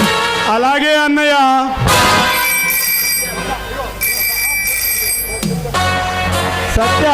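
A telephone rings in a village stage drama, its steady electronic tone sounding in two long bursts after a brief voice at the start.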